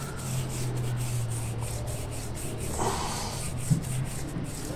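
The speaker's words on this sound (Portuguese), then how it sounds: "com o pincel, ó, você só vai esfregando assim, ó. O thinner já vai tirando tudo, ó." A brush scrubs paint off a tire with thinner, giving a continuous soft scratchy rubbing at close range with a low background hum and one small knock near the end.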